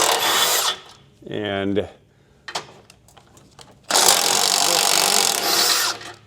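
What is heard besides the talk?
removing motor mount bolts with tools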